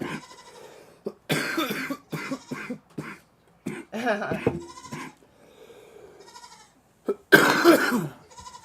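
Goats bleating on a grazing farm: a few loud, harsh bleats in bursts near the start and end, with quieter calls and rustling between them.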